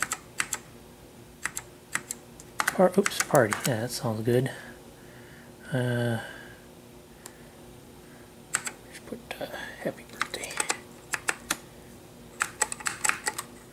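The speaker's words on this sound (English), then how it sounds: "Boy, this keyboard ain't working either." Someone types on a computer keyboard connected to an ImageWriter II dot matrix printer setup, with bursts of clicking keystrokes between and around a person talking quietly.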